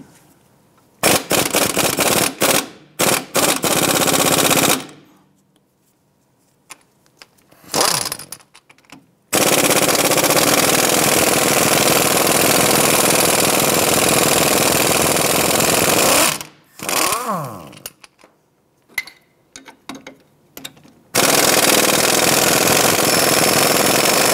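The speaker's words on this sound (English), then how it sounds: "Let's go ahead and remove the two strut bolts right here" An impact gun spins off 18mm strut bolts on a 2001-2007 Ford Escape in loud, close bursts of rattling hammering, split by short pauses and quieter clicks.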